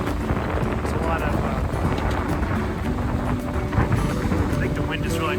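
Steady wind roars across the microphone aboard a sailboat on a Great Lakes run, a dense continuous broadband rush with faint creaks and rigging noise underneath.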